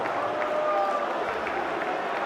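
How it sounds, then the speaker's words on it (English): A boxing arena crowd applauds both fighters after a technical draw, a steady wash of clapping and crowd noise throughout, with voices mixed in. "A round of applause for both fighters"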